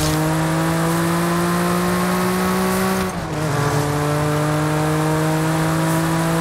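A BMW M4 G82 with a 3.0 twin-turbo inline six driving in Forza Horizon 5, a loud steady engine drone that drops in pitch at a gear change midway, then continues evenly.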